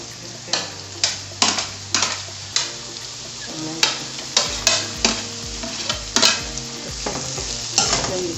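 Pepper fries and is stirred in olive oil in a pan, with a steady sizzle under repeated close scrapes and knocks of a utensil against the pan, roughly one stroke per half second.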